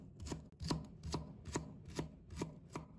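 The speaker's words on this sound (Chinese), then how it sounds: "然后切成姜末。" Knife mincing peeled ginger on a cutting board, with about eight even, crisp chops spaced roughly every 0.4 seconds, close and clear, with no speech.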